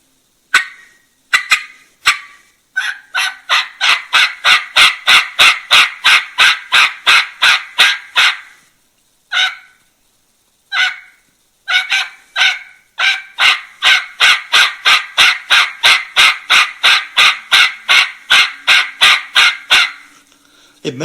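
A turkey calling champion imitates a hen turkey's yelp in loud, close, rapid runs of sharp rhythmic notes, broken into several series with short pauses between.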